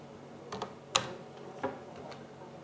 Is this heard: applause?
no